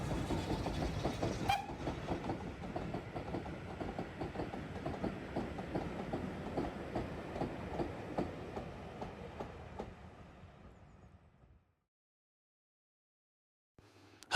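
Steam locomotive 80151 hauling a train southwards from East Grinstead on a heritage railway, a steady rhythmic rumble and clatter of wheels passing at moderate distance, fading out toward the end into near silence.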